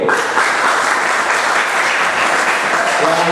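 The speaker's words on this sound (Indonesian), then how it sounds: "Nah, berikan tepuk sekali lagi." A church congregation claps during a worship service, producing a dense, loud, continuous wash of applause that holds steady throughout.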